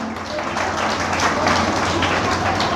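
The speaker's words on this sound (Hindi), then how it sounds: "सब ताली बजाएं।" Schoolchildren in a classroom clapping together, a dense, close burst of applause that rises quickly and stays steady and loud for a few seconds.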